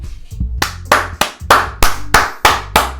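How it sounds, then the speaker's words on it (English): A few people clap in a brisk, even rhythm in the video game Doki Doki Literature Club, about eight sharp claps close by with no talking. "The four of us applaud."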